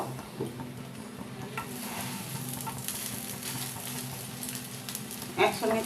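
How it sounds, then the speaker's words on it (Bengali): Two slices of bread toast in a pan for Bengali egg toast, giving a soft steady sizzle with occasional light scraping and a louder clatter near the end. "এবার দুটো পাউরুটি নিয়ে নিয়েছি পাউরুটিটাকে ভালো করে সেঁকে নেবো"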